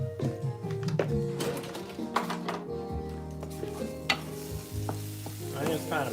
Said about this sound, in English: Oh, my onions are burning.